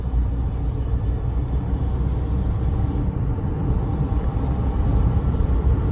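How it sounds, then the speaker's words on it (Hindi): A Tata Punch with a three-cylinder engine and manual gearbox accelerates toward 100 km/h on an open road, producing a steady, loud, droning engine rumble that fills the cabin without a break. "तो इंजन नॉइज आता है भाई"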